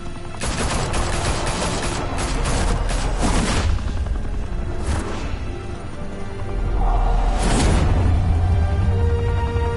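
Loud, dense gunfire erupts in Batman: The Telltale Series, a sustained barrage of rapid shots with heavy booms and crashes layered on top, close and continuous throughout.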